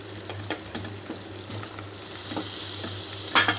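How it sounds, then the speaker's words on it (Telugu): Mint chutney ingredients sizzle steadily in a pan over a medium-to-low flame, with soft scrapes and stirring clicks over a constant frying hiss that swells toward the end, no voices. "ఇవన్నీ మీడియం టు లో ఫ్లేమ్లోనే పెట్టుకొని ఫ్రై చేసుకోవాలి, లేదంటే మాడిపోతుంది"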